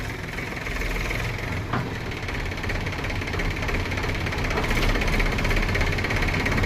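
A Mahindra 265 tractor engine runs steadily close by, a low throbbing knock that grows slightly louder toward the end.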